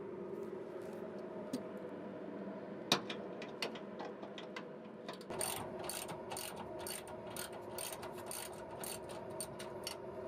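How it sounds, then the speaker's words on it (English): A 10mm socket wrench on an extension rapidly clicks as it loosens factory bump stop bolts on a truck during a Timbren suspension install, producing a fast, close, steady ratcheting that starts midway over a low background hum. "all we're using here is a 10mm socket with an extension on it"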